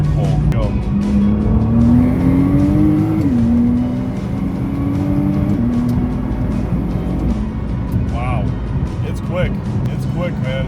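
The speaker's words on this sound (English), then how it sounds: "I haven't even done a full pull on the stock GTR" A stock 2009 Nissan GTR pulls hard through the gears, its engine note rising loudly, dipping briefly at a shift and climbing again, with tire noise and a voice speaking over the roar.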